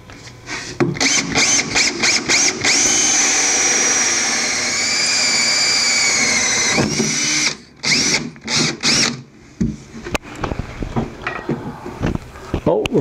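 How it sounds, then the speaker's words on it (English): A power drill spins a 1 1/8 inch hole saw through a compartment panel in a router table build, whining steadily for several seconds between short bursts, close and loud, with brief talk around it. "To run the cord through the compartment, I'm going to use an 1 1/8" hole saw."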